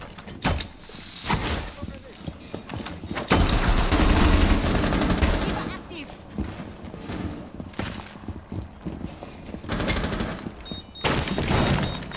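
Video game gunfire crackles in dense bursts and rapid volleys at close range, mixed with clattering mechanical noises and busy in-game effects.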